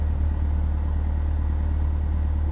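A Cessna 172 engine idles on the ground after landing, a steady low drone with a faint rattle running unbroken and close throughout.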